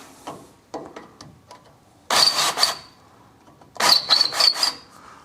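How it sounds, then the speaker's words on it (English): Rust being cleared from bolt holes on a Land Rover 110 Defender chassis: a few short scraping clicks, then two louder bursts of rough metallic scraping, close by with quiet gaps between. "I'm just going to clear out all the holes, as there's a bit of rust in them"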